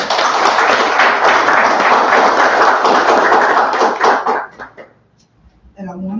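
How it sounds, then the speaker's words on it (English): Audience at a graduation ceremony breaks into dense, loud applause that holds steady for about four seconds, then thins into scattered claps and fades out, followed by a brief voice. "take this time to give yourself a round of applause"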